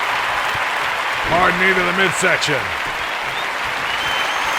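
A wrestling crowd at a live pro-wrestling show cheers and applauds in a steady roar, while a commentator calls the action over the top.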